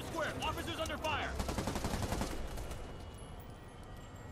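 Rapid gunfire in a Spider-Man video game, bursts of automatic shots crackling on and off around a street shootout in Times Square, with a shouted voice near the start.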